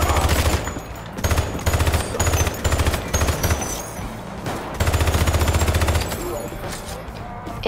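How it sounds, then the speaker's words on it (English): Rapid automatic gunfire from the toy shooter video game Hypercharge Unboxed comes in repeated loud bursts with short pauses between them, a steady gameplay background running underneath. "I thought that was a gun."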